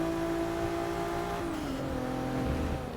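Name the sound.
race car engine, Volvo S60 in video game Forza Motorsport 6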